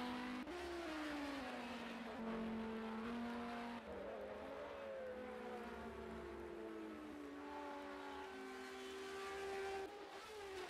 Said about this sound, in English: oh, these cars are so fast through Stowe.